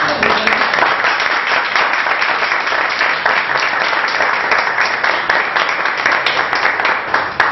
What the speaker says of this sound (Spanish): yo creo que merece un fuerte aplauso